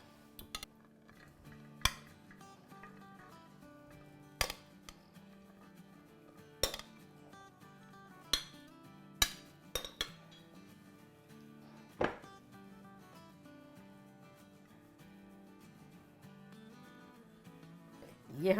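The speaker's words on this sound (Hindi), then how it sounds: "हम सर्विंग डिश में डाल देते हैं।" Sharp, sparse clinks of a utensil against a serving dish as kala chana chaat is spooned out, a dozen or so isolated taps spread across a quiet kitchen background.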